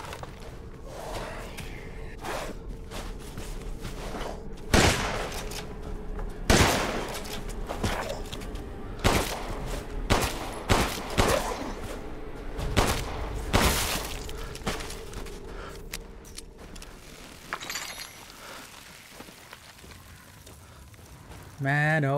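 Gunfire in the video game Resident Evil Village, heard as a series of sharp, loud shots spaced irregularly a second or two apart over ambient game sound, with a person talking between them.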